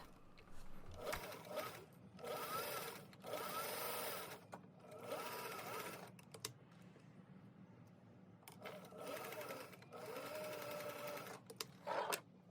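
Sewing machine stitching the second pass of a French seam on a Regency-style sleeve, bursts of fast mechanical whirring that start and stop several times with short pauses between, close and fairly loud, no talking.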